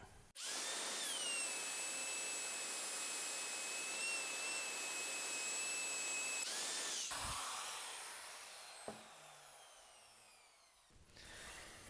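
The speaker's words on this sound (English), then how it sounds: "I can now use my router, keeping it against the fence of the jig, and make my dado cut." Router cutting a dado in wood while guided along a jig fence, a loud high-pitched whine held steady for about six seconds, then spinning down and fading with a click.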